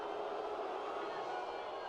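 A large stadium crowd at a Paralympic five-a-side football match between Brazil and Turkey murmurs and jeers in displeasure, a steady, dense wash of many voices at moderate loudness throughout.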